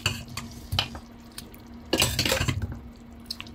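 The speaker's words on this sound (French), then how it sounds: "je peux rajouter la viande" Pre-cooked spiced beef is added to a tomato sauce with clinks of a utensil against the pot and soft stirring and scraping, plus a quiet low simmer underneath, including a louder burst of clatter midway.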